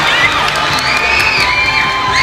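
A crowd cheers and screams at a boxing match in the Bohol Cultural Center, with loud, sustained shrill shrieks and whoops rising and falling throughout, close and dense.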